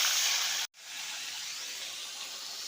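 A fish head coated in salt and turmeric fries in hot mustard oil with a loud, steady hissing sizzle. The sizzle breaks off abruptly for an instant, then picks up again and carries on evenly.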